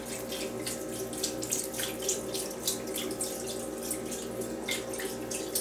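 Broth poured gently into a crock pot over seasoned chicken makes a steady, soft splashing trickle that continues without a break throughout.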